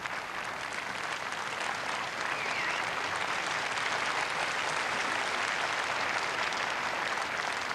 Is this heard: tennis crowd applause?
yes